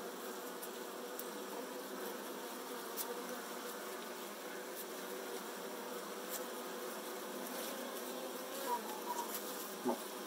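Saskatraz honeybees hum in a steady, dense buzz during a hive install, with individual bees droning close by now and then.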